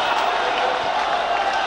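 Football crowd in a stadium at an Azerbaijan–Russia World Cup qualifier, a steady distant roar of fans cheering beneath a commentator's voice.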